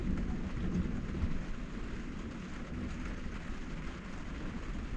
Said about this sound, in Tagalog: Ulan kaayo sa gawas